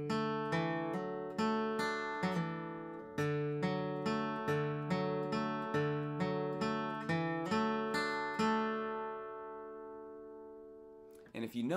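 A flatpicked acoustic guitar plays a crosspicking phrase, starting on the low strings and moving up to the next string grouping: a steady run of clear, ringing picked notes that ends on a long decaying note, close and alone.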